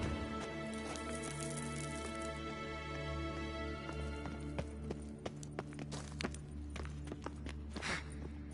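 A horse's hooves clop along in The Witcher 3 video game, a quick run of close hoofbeats over a low, steady ambient hum, with sharper individual strikes standing out toward the end.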